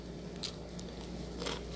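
Someone bites into crunchy fried fish with garlic, close to the microphone: a couple of soft crunching bites over a steady, noisy background hum, with no talking.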